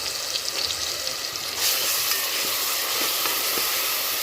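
Ground ginger-garlic spice paste hits hot oil with cinnamon, cloves and cardamom for a mutton dish, and a loud, steady sizzle swells briefly as it fries, with faint stirring clicks running underneath.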